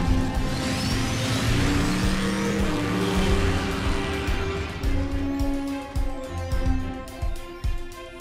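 A cartoon car engine revs up loudly and accelerates away with rising whining pitch, settling into a steady drone with some rumbling bursts near the end.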